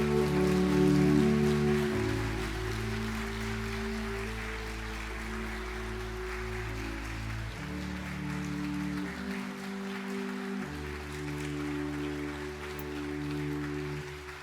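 Church congregation applauding during a Sunday service baptism celebration, a soft continuous patter of many hands, heard alongside sustained organ or keyboard chords.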